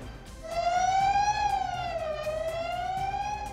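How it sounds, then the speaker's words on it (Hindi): A siren wails steadily over Rishikesh during the Joshimath glacier burst disaster, rising and falling slowly in pitch, loud and continuous throughout with no voices. "सायरन की आवाज से ऋषिकेश का इलाका गूंज उठा"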